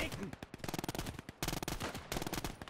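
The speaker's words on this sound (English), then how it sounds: "this MG42 is blasting" MG42 machine gun in the WWII strategy game Gates of Hell fires long, rapid, tearing bursts broken by brief pauses, close and loud, with battle noise around it.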